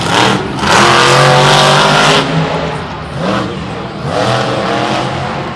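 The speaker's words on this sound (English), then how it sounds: "He's running the MagnaFlow collectors, which are a lot louder than the regular collectors that they run nowadays." A monster truck at a Monster Jam arena event in Tampa, running loud MagnaFlow exhaust collectors, roars through repeated hard revs that swell and drop, the engine blaring close and raw with a throaty rasp.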